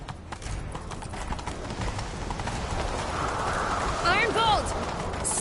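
Galloping horse hooves in The Witcher 3 video game, a rapid clip-clop rhythm heard close throughout, with a short whinny near the end.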